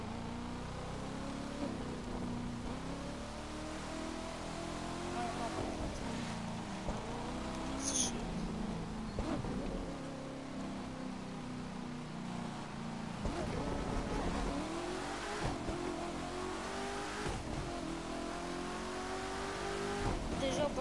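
A car engine drones steadily while being driven in a video game, a continuous low rumble with slight rises and falls in pitch, under faint talk.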